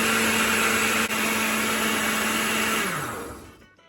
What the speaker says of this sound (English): So now we're going to cover and blend again.